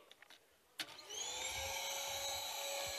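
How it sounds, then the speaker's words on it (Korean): A vacuum cleaner starts up after a click, its motor whine quickly rising to a steady, continuous drone that holds at moderate loudness to the end. "청소기 돌아가려면 어떻게 해야 돼요?"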